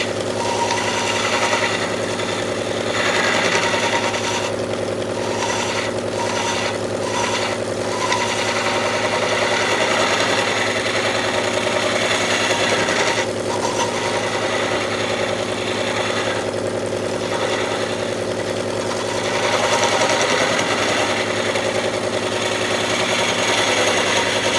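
Wood lathe spinning steadily as a chisel cuts captive rings on the turning piece, a continuous loud mechanical drone with a rhythmic rattling hum and occasional scraping shifts from the tool, close and without talking.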